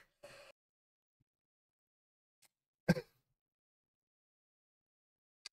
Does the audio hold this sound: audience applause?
no